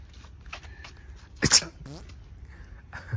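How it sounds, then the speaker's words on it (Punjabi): A single sharp sneeze bursts out midway, loud and close, between quiet stretches of household sound. Speech is faintly heard around it. "ਮੈਨੂੰ ਛਿੱਕ ਜੀ ਆ ਗਈ"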